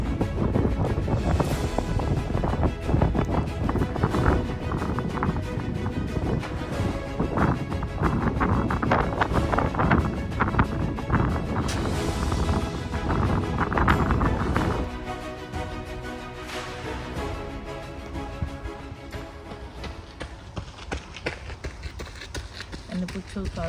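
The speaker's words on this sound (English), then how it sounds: "See, the wind's stronger up here." Strong outdoor wind buffets the microphone in a continuous loud rumbling roar, easing somewhat partway through while a person talks over it.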